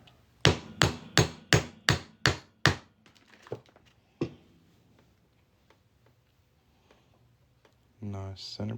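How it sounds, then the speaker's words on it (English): Seven sharp metallic hammer strikes in a steady rhythm on a quarter coin being made into a ring, then a few scattered taps and a last single blow, with a brief burst of voice at the end. "Hammer that on through."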